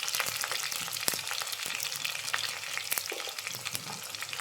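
Shallots frying with a spoonful of salt in a pan give a steady, close crackling sizzle with scattered sharp pops and spoon clicks throughout, no voices.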